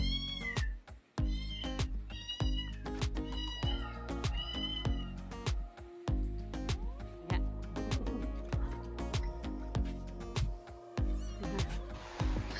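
Several orphaned kittens meow repeatedly and insistently, high-pitched cries overlapping close by, with no talk.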